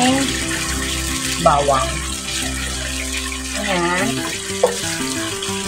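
Water runs continuously into a pan with garlic, a steady gush like a tap filling, while a person talks over it with occasional kitchen clinks.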